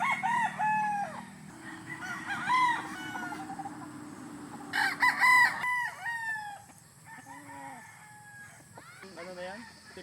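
Gamefowl stags and hens on a breeding farm crow and cluck as they are brought out of their coop: several loud, close cock-a-doodle-doo calls overlap with sharp clucks and squawks, over a low steady hum.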